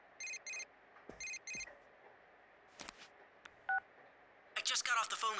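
Keypad dialing tones from Persona 4 Golden, a short burst of beeps followed by a second burst, then clicks and a brief tone, ending in a muffled garbled voice over the phone line.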